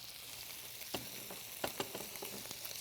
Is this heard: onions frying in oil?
yes